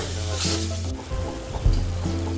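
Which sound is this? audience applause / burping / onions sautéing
onions sautéing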